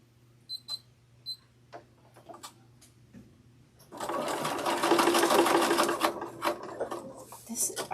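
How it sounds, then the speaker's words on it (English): A domestic sewing machine top stitching fabric runs in a fast steady burst for several seconds, up close and fairly loud, after quiet talk and light handling clicks. "I don't sew on this machine as often as my industrial"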